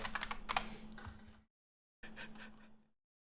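Quick clicking keystrokes on a computer keyboard while playing a PC DOS adventure game, in two fairly faint bursts split by a brief silent gap.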